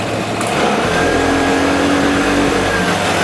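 A Vespa Primavera 150 scooter engine held on the throttle, a loud steady motor drone that rises slightly in pitch, close and continuous for a few seconds.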